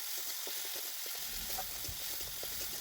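Tomatoes with salt sauté in a pan for a vegetarian dal, giving a soft, continuous sizzle with light stirring scrapes, quiet and steady throughout.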